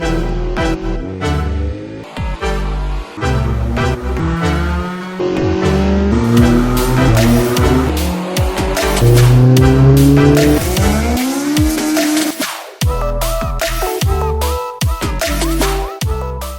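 A K20a-powered Type R build car on a test drive, engine revving hard up and down through the gears while its tires squeal loudly and repeatedly in long skids, close and dominant throughout.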